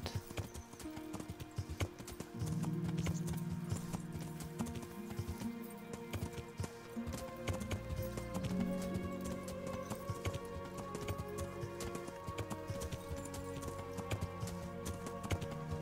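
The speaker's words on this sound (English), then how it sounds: "At least we've got a horse." Horse hooves clip-clop at a gallop in the medieval video game Kingdom Come Deliverance, a quiet, continuous rhythmic pounding layered over game ambience and music.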